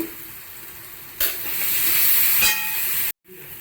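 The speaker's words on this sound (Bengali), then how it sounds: "ভালো করে নাড়িয়ে চাড়িয়ে নেব, নাড়তে নাড়তে তেল বের করিয়ে নেব কষাতে কষাতে" Masala frying in oil while being stirred for ghugni: a loud, steady sizzle with scraping and stirring pulses, ending in a brief cut to silence.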